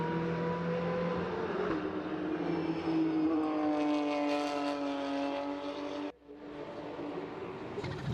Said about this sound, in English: Take a listen to the flat 6 in the rear of that Porsche